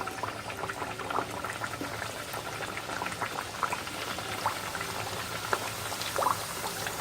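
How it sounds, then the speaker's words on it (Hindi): Fenugreek-flour savoury papdi fry in medium-hot oil, giving a dense, continuous bubbling crackle and sizzle that holds steady and close throughout, with no talking. "तेल मीडियम गर्म हो चुका है। अब हम इनमें तलेंगे।"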